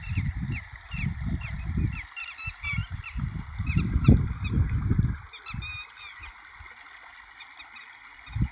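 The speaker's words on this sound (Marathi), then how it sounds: "पक्ष्यांचे आवाज." Geese honk repeatedly in a farm field beside sugarcane, their calls overlapping and fairly loud over a low, continuous rumble that fades partway through.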